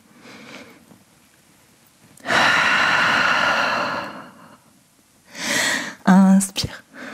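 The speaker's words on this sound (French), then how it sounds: "immense respiration ici" A deep yoga breath taken while holding downward-facing dog in a vinyasa class, a long loud airy exhale near the microphone, followed by shorter sniffs and breaths with a faint voice underneath.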